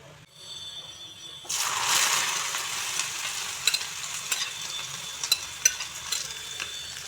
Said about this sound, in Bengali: লতাগুলো এখন আমি সরিষার তেল দিয়ে খুব ভালো করে ভেজে নেব